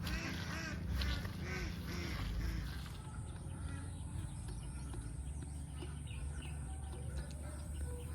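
Several ducks quack in quick bursts near a rice paddy with fishponds, loudest at the start and then thinning to scattered calls and chirps over outdoor background noise.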